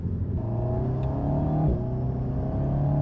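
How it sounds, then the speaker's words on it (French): Alpine A110 Légende accelerating in sport mode, the rear mid-mounted turbo engine droning as rising whistling tones climb through the gears, with a brief shift dip midway; close and steady, no talking. "on entend vraiment les turbos siffler à l'arrière avec la dépression"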